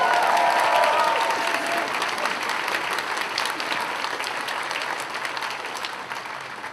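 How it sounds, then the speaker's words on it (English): An audience at a furry convention opening ceremony breaks into loud, sustained applause that slowly tapers off, with a few cheers mixed in. "So let's have a round of applause for that."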